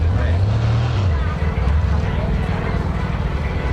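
A 1955 hot rod's engine idles steadily at a car show, a loud, low rumble running throughout with a slight dip in level partway through.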